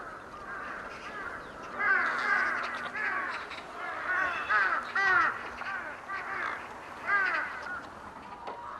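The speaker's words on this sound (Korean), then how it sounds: "돼지의 먹잇감을 훔치는 까마귀." Crows caw repeatedly beside a pig barn on a winter field, harsh calls overlapping in irregular bursts at close to moderate distance, with no talking.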